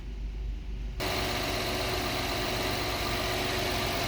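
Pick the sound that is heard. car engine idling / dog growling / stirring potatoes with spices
car engine idling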